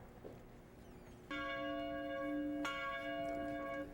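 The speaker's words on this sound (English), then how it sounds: "Ringing the bell is a UGA tradition when you graduate" A University of Georgia graduation bell rings out with a sustained, resonant tone, struck once and then again a little over a second later, each strike ringing on and slowly fading.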